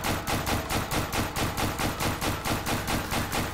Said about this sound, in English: all of those shots then didn't even count